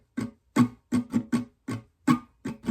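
Strummed acoustic guitar playing the first strumming pattern of a song: nine crisp, close strums in a syncopated rhythm, with short gaps between them and no voice.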